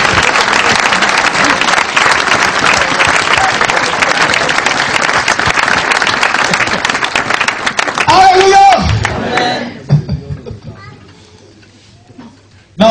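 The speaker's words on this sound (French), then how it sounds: "On peut vraiment acclamer Jésus" Church congregation applauding and cheering for Jesus at a French-language sermon, with loud, sustained clapping for about eight seconds that fades into a preacher's voice.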